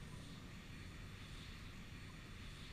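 In a flight simulator over Alaska, an airplane engine drones as a steady, even roar, filling the whole clip without rising or fading and with no talk.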